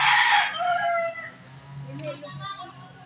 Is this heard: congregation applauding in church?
no